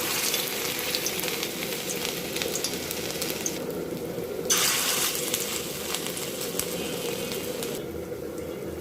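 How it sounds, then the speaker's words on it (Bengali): Pointed gourd fritter batter fries in hot white oil in a wok, giving a close, steady, dense crackling sizzle that continues throughout with no talking. "তেল গরম হয়ে গেছে এবার পটলের মিশ্রণটা অল্প অল্প করে দিয়ে দিব"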